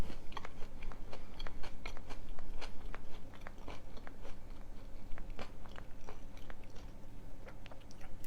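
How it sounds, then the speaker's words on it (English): Close, crisp bites and crunchy chewing of a savory chicken salad, a steady run of small crackling crunches for several seconds with no talk. "I'm just going to get one and taste it right here."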